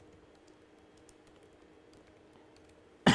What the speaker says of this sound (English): Then I can just type in their name